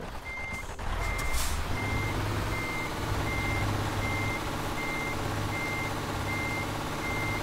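A heavy truck in Euro Truck Simulator 2 sounds its reversing alarm, a steady series of evenly spaced beeps over a low rumbling engine and road noise, with a brief hiss near the start.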